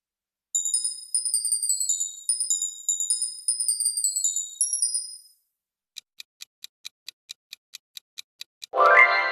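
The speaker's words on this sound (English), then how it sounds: "Ice cream van." Ice cream van chime: a bright, high tinkling melody plays for about five seconds, followed by a steady run of sharp ticks and a brief burst of noise at the end, with no talking.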